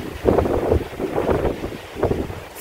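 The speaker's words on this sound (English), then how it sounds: "It's very windy though." Strong wind buffets the microphone outdoors near a lighthouse on a sunny coastal day, a steady low roar with repeated gusty swells, no talking.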